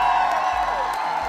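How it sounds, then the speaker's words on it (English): Audience at a school Kuumba Week event, cheering and whooping with some clapping underneath, a short burst of crowd noise over a steady musical tone. "Give Anime a round of applause."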